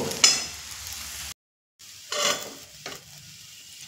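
A sweetened mung dal kachori filling being stirred in a pan, with short scraping strokes and a faint sizzle broken by a brief gap, close and fairly quiet, no talk.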